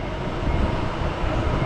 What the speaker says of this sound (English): Hollywood subway. Metro rail, as they call it.